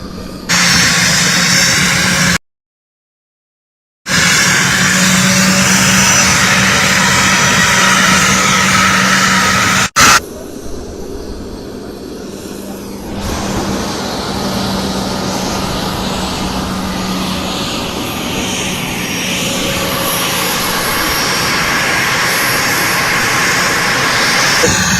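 An aircraft arrives at a summit venue, its engine roar loud and sustained, briefly cut out, then continuing as a broad rumbling whine that slowly builds again.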